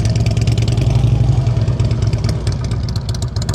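Motorcycle engine idling at low throttle during advanced slow-speed riding practice in Pennsylvania, a close, loud, steady pulsing putter with a slight dip and recovery in revs, no voices.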